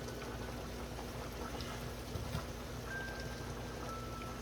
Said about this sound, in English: we're just gonna cover this and let it continue to simmer